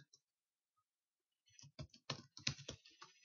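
Keys clatter on a computer keyboard during a JavaScript coding lesson, a quick burst of close, crisp clicks that starts after a short silence and runs unevenly to the end.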